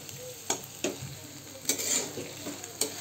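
Sabudana and potatoes sautéed in oil, a constant sizzle with intermittent spatula scrapes and stirring clatters at a moderate distance, with no voices.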